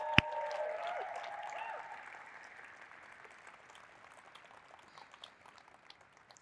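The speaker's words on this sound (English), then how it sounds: "Please give Raquel a round of applause." An audience at a Python Software Foundation conference awards session applauds a recipient, a loud burst of clapping that rises at once, then thins and fades over several seconds.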